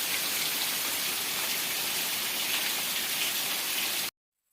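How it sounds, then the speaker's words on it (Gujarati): Heavy rain pours on a farm field at night in a dense, steady roar that stays constant for several seconds, then cuts off abruptly into silence. "જોરદાર નો વરસાદ આવી ગયો."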